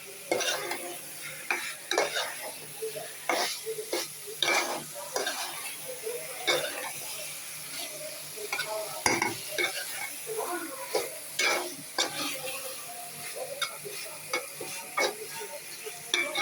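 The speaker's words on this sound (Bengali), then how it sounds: "মাংসগুলো ভালো করে কষিয়ে নেব।" Chicken meat is stirred and fried in a pan, with repeated scraping strokes of a utensil against the pan over a steady sizzle.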